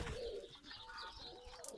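Pigeons cooing nearby, soft low throaty calls repeated over a quiet outdoor backdrop, faint and brief.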